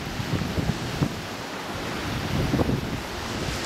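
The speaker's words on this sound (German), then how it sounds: "Und jetzt sind wir hier am Meer." Sea surf breaking on a beach along the Italian Riviera below Porto Maurizio, with a steady wash of waves and a few louder swells, some wind rumble on the microphone and no talking.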